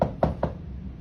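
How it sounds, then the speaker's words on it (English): Knocking on a door, three firm, evenly spaced knocks in quick succession, close and resonant with no talk over them. "There's a knock at the door."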